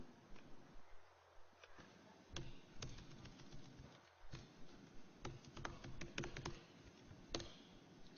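Someone types on a computer keyboard in a quiet room, with irregular bursts of close, fairly faint key clicks and taps that grow denser and heavier toward the end.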